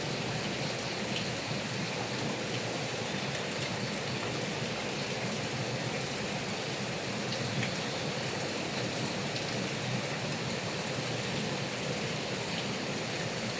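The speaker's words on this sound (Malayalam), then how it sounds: "പുറത്ത് നല്ല മഴ ചാർന്നുണ്ട് കേട്ടോ." Heavy rain falls outside a house at night, a loud, even, continuous roar of drops with no pauses and no voices.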